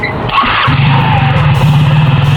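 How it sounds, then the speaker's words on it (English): Faulty scooter engine brought up to wheel speed, a loud close buzzing idle that steadies into a rapid pulsing drone after a short rev at the start. "Go ahead and bring the bike up to a wheel speed and take a look at that exhaust moving."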